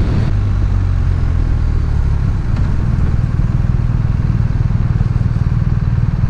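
A BMW R 1250 RT touring motorcycle engine running on a demo ride, a loud, steady, low throbbing drone that stays close throughout.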